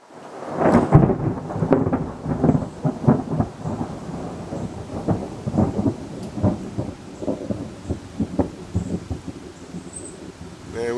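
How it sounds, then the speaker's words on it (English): Rolling thunder over a front porch, a long series of rumbling cracks and grumbles that keeps going with a hiss of rain underneath, fairly close and loud. "Man, we get the best thunder down here."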